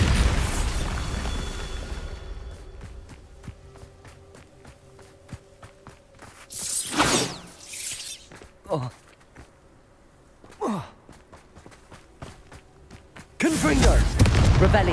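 Bombarda explosion spell in the game Hogwarts Legacy, several booming blasts with rumbling tails scattered among rapid footsteps and other spell effects, with no talk.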